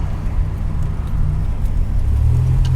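A 1987 Buick T-Type car accelerates hard in second gear toward boost, its engine a loud, steady, low rumble that swells slightly toward the end, heard up close with no talk.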